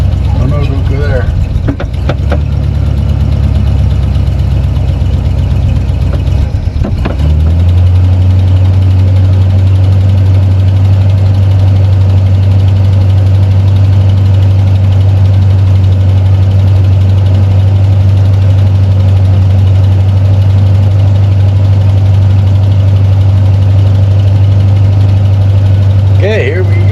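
A 500 cubic inch engine in a front-wheel-drive mid-engine project car idles with a loud, steady low rumble that holds throughout, with a brief revving surge early on and people talking over it.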